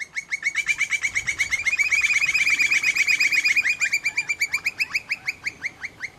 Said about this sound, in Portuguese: Eu acho o máximo esse canto do pica-pau do campo.